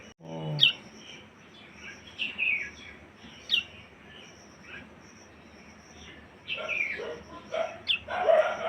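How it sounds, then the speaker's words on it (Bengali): A pair of small birds give short scattered chirps and tweets back and forth, faint to moderate, over quiet indoor room noise. "দুজন জোড়া পাখি আওয়াজ করছে"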